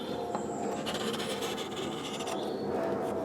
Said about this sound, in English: all I tend to do is just take the gouge and just run this across the internal edge, just to take off any burrs